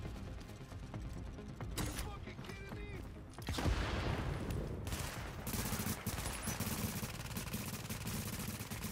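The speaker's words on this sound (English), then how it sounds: "This turret's going to be useful because it's just shooting on the top of the hill while he's in cover." An automated turret in the shooter game The Division fires continuous rapid gunfire at a boss in cover on a hilltop. The shots come as dense, overlapping bursts that get louder partway through.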